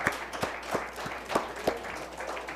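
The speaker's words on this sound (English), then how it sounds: "Give them a round of applause." Scattered, sparse hand claps from a small audience at a high school quiz competition, saluting the winning Bishop Verot team; about seven distinct claps spread unevenly over a quiet room.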